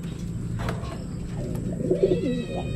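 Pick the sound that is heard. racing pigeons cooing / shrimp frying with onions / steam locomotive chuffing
racing pigeons cooing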